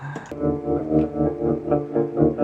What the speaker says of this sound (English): or tremolo, which sounds like this.